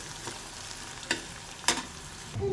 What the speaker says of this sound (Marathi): आपण छान परतून घ्यायचा आहे तेल सुटोस्तर.